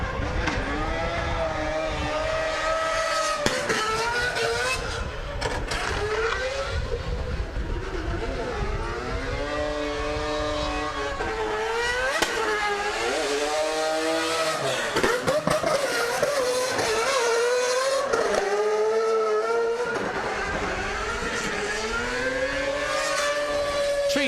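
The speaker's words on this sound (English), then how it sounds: "Massive round of applause for James Dean in the quad rotor FD RX-7." Quad-rotor Mazda FD RX-7 race car at Mondello Park, its high-pitched rotary engine screaming loud and close through repeated rising and falling revs as it passes, with speech over it.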